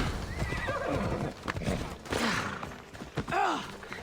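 A horse in the video game Assassin's Creed Odyssey whinnies several times in shrill, wavering calls over the thud and clatter of hooves moving along steadily.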